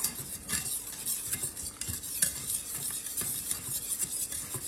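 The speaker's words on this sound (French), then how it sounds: "on vient le faire cuire pendant 2-3 minutes tout en remuant" A roux of flour and butter cooks in a pan for mac and cheese while a utensil stirs it constantly, giving repeated scraping strokes over a soft, continuous sizzle, fairly close and with no talking.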